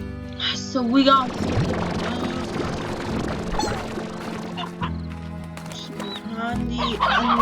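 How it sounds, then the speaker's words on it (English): Chickens cluck in the video game Slime Rancher, with bursts of clucking and squawks over a game music bed while a person talks throughout. "we also have chickens"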